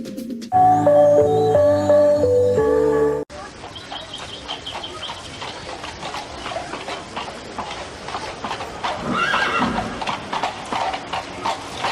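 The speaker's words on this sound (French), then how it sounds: "Les chevaux sont bien nourris." Horses clip-clop steadily on hard ground after a brief musical jingle cuts off, hooves knocking in uneven rhythm with an occasional neigh and faint bird or rooster calls in the background.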